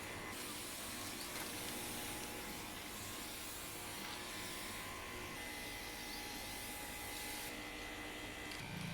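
A sprayer applies weed killer to grass in the sun, giving a steady, loud hiss of spray that runs unbroken for the whole stretch with no voices.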